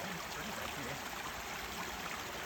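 Water rushing along a Georgia mountain creek, a steady, broad close-up babble and trickle with no voices, holding even throughout.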